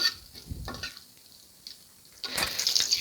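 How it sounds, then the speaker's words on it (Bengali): Dried red chilies and whole cumin seeds fry in oil for fish soup with potatoes, with brief stirring scrapes and a faint sizzle, a quiet pause, then a louder, fuller crackle that builds toward the end. "এখন আমি সুন্দর করে লাল করে ভেজে নেব"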